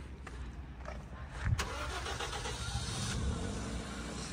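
A car engine cranks and catches at Babusar Top on a mountain road, a brief starting burst around midway followed by a low rumbling idle, fairly faint with outdoor background.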